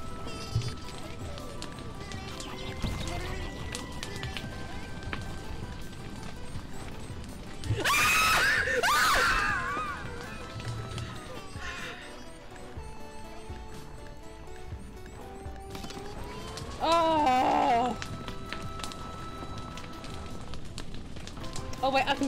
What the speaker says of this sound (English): Screaming that they are burning.